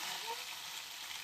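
Spices sizzling in hot oil for a dal tempering, a soft, steady crackling hiss, fairly faint and close, lasting about a second.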